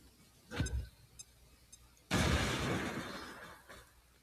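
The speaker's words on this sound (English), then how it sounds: "Throwing grenade." A grenade blast in the sci-fi strategy game XCOM 2 bursts out suddenly after a brief earlier thump, a close noisy explosion that decays over about two seconds.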